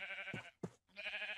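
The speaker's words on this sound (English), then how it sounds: "Sheep." A sheep in Minecraft bleats in two short wavering calls, fairly faint, with brief silence between.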